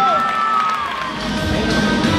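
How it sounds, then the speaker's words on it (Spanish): Audience at a Men's Physique competition cheering, whooping and applauding the competitors, a loud, dense crowd roar that swells toward the end. "Un fuerte aplauso para todos ellos."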